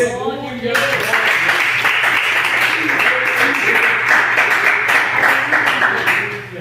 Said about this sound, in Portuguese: Pode se assentar e bater as palmas bem alegre para Jesus.